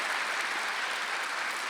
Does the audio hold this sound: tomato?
no